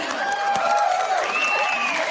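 A short burst of crowd applause plays as a sound effect on a podcast, steady and full for about two seconds, with whoops and cheers rising over the clapping.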